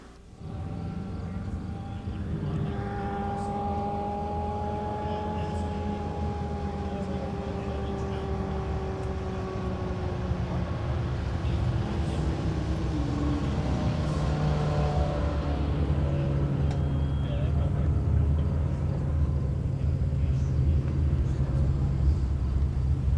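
A race car engine drones steadily on a victory lap, Sean Kennedy's Waste Management number 32 car, with rising and falling harmonic whine over low rumble, sustained and fairly loud throughout.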